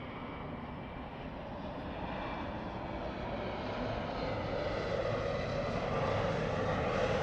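An American Airlines airliner arriving at LAX from Salt Lake City sends a steady engine roar that grows gradually louder as it approaches, heard alone without voices.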